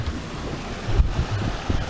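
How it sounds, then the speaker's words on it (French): Wind rushes past the deck of a Mini 6.50 racing sailboat at sea on the Les Sables–Azores race, with a steady low roar of wind and waves and occasional thumps of the hull. "Ah là c'est rentré le vent"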